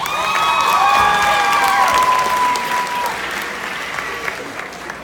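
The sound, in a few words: graduates applauding at high school graduation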